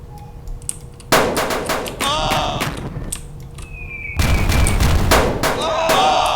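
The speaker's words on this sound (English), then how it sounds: "So my sniper took them off. I have 4 snipers. They shoot really far." Snipers open fire in Cannon Fodder Commander, a game battle with soldiers in formation ahead of mortar teams: bursts of sharp, ringing shots crack in quick clusters, loud and close, with a few metallic pings between volleys.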